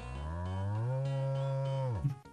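A bull lets out one loud, close, drawn-out moo lasting about two seconds, steady and deep before it drops off abruptly, with no talk over it.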